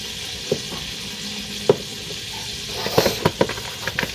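A hot pan sizzles and fries steadily on a home stove, with a few close clicks and clinks of stirring utensils over the constant hiss. No one speaks.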